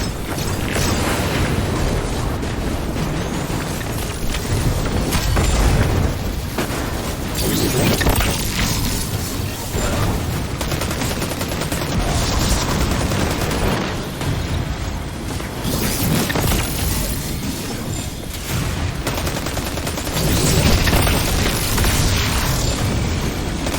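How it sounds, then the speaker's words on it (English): Grenade blasts and chaotic combat in the video game Destiny 2, a dense, continuous wall of booms, crashes and mechanical clatter at steady loud level throughout, with no talking. "Delightful number of grenades."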